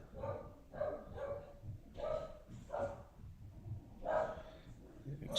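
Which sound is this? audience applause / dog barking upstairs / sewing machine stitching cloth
dog barking upstairs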